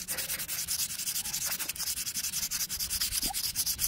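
Sandpaper rubbed by hand over aluminium putty on a damaged alloy wheel, a steady run of rhythmic back-and-forth scraping strokes, close and continuous with no talk.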